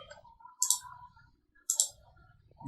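A computer mouse gives two crisp clicks about a second apart, close and clear against quiet background noise.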